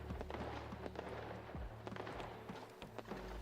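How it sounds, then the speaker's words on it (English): Video game fireworks in Old Market Simulator pop and crackle in scattered bursts, with a few deeper thumps over a low humming background at modest volume. "I hope we enjoyed the fireworks ASMR."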